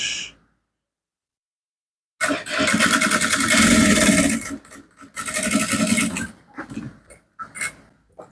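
A sewing machine top stitching a garment: a sharp start after near silence, then two loud, steady whirring runs with a short pause between them, tapering into softer uneven bursts at the end.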